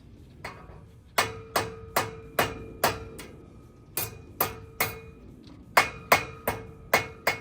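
Sharp metallic hammer strikes on seized exhaust clamps of a 3rd-gen Cummins ring out in a steady series of taps, close and clear, with brief pauses between runs of blows.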